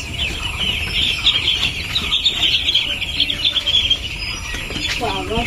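Chicks on a poultry farm chirp in a dense, continuous high-pitched chorus, loud and close, with occasional clucks mixed in.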